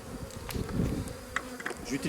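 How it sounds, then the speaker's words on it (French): A honeybee swarm being collected from a branch into a bucket buzzes close by, a busy, wavering hum broken by soft rustles and bumps. "si les abeilles retournent sur la branche, elles vont retourner"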